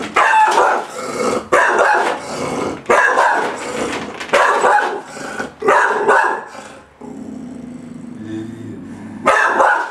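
A pitbull reacting to a Halloween mask, barking and growling in a run of loud, close snarling barks, then a brief low growl before one more bark.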